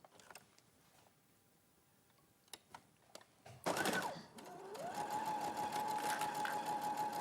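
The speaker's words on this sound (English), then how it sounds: "So I've sewn one side, I'm just going to sew the other side." A domestic sewing machine stitches a quilt block, starting up after a few soft clicks and handling sounds and then running in a close, steady mechanical whir until the end.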